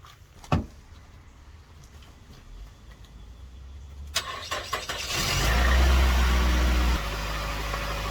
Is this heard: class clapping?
no